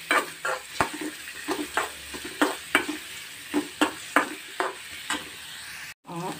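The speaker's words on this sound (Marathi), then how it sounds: "तातूंत कांदो घालून घेवपाक जाय, कांदो बरो रोस्ट करून घेवपाक जाय" Onion fries in hot oil in a kadai, a steady sizzle broken by a regular series of sharp scraping strokes as it is stirred, about a dozen in six seconds, close and clear.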